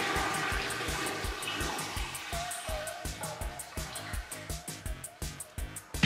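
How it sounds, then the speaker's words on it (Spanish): A toilet flush fills the bowl, a continuous rushing of water with a gurgling pulse that gradually settles and fades. "Tira de la cadena para que se llene la taza."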